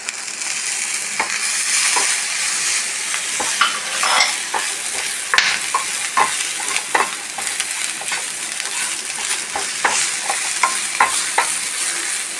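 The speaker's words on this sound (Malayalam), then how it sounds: "ഇതൊന്ന് ഫ്രൈ ആവട്ടെ" Raw mango chutney ingredients frying in a pan, a steady close sizzle broken by frequent scraping stirs and clicks of a spatula, with no one speaking.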